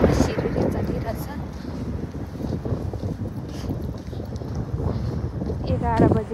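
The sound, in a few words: wind blowing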